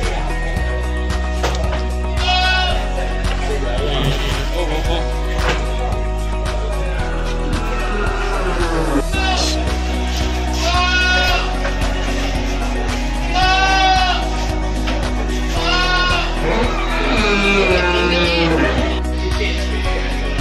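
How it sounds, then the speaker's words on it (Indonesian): Female Etawa crossbreed (PE) goats bleat repeatedly in wavering cries, several animals calling one after another at close range over a steady low background hum, with faint voices now and then. "Kambing cewek."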